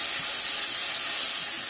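Water poured into a hot pan of cooking rice and potatoes with stalks, giving a loud, steady steaming hiss that fills the whole moment with no voices.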